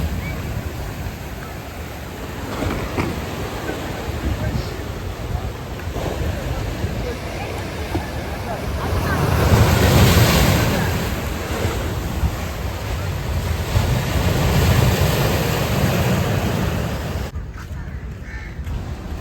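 Sea waves rolling in at Rock Beach, Pondicherry, a continuous surf roar that swells twice and eases, heavy wind buffeting the microphone, a crow calling faintly.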